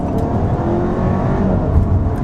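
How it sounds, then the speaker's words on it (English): A 2017 Audi A4 Premium Plus sedan upshifting, with a steady, loud engine and exhaust drone heard from inside the car and no talking. "upshifts sound great in this thing"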